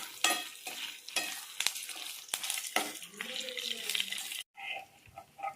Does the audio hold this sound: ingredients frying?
yes